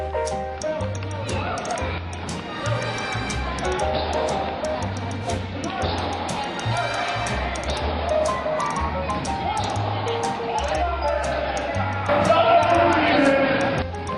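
Crowd noise at a high school event, with shouts and cheers rising over a steady murmur and a sharp squeak or whoop near the end, the loud din continuing throughout.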